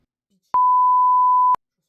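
A single steady electronic beep lasting about one second, clean and loud, the kind used to censor a word, with silence before and after.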